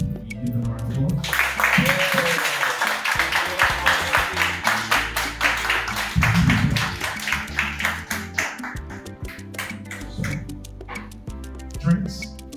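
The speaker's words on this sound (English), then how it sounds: "You give them a round of applause." Forum audience clapping for the speakers at a creative art event, a scattered round of applause from a modest crowd, rising then thinning out, with voices talking over it.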